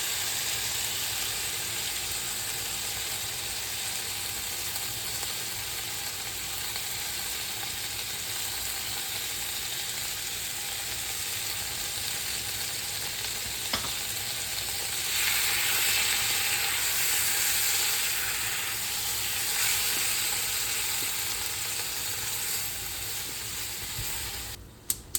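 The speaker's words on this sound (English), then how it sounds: "Give everything a stir so they mix right in." Cherry tomatoes sizzling in a hot pan with green beans for a Persian-style dish, a continuous close frying hiss with occasional stirring scrapes and a brighter surge of sizzle partway through, no talking.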